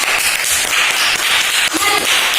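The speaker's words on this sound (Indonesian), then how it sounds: "Kita tepuk tangan semua untuk Ida" Primary school pupils in a classroom clap together for a classmate, a loud, dense, steady patter of many hands filling the whole short stretch.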